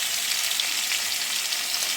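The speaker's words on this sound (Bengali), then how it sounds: "লাল করে ভেজে নেব।" Potatoes with turmeric and salt sizzle in oil in a very old wok once used over wood fires, a steady close hiss of frying with no talk.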